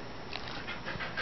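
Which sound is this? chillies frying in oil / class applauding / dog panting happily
dog panting happily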